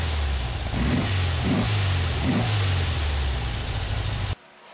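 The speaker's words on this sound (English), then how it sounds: "And now the car runs really good." Air-cooled flat-four engine of a Porsche 356 running on newly fitted Chinese-made carburetors, a steady loud drone with a few brief rises in revs, cutting off sharply near the end.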